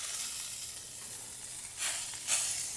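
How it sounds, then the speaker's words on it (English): Lobster tails sear on a Blackstone griddle with a steady, close sizzle and hiss, swelling into two louder crackling bursts near the end. "I'm going to sear them off"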